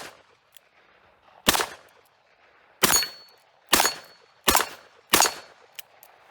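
A Taurus Model 66 .357 Magnum revolver fires five sharp, loud shots at a shooting range, spaced roughly a second apart, each a crisp crack followed by a short ringing decay, with quiet between.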